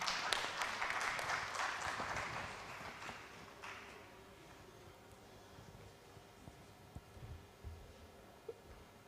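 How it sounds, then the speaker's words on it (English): Brief burst of audience applause at an investment summit as a presenter steps up to pitch, dense clapping for about three seconds before thinning out into scattered taps and quiet room noise. "Please a round of applause for him as he steps up."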